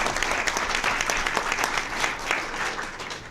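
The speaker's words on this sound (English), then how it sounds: "so I think he deserves a round of applause" Seminar audience at a legal training session on trying OUI cases gives a witness a round of applause, dense and continuous clapping from many hands, loud and close throughout.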